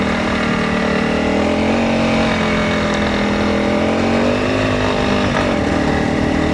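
Honda CRF300 Rally motorcycle climbing uphill, a loud steady engine drone from close by that holds a labouring tone, with a slight pitch shift near the end and no talking.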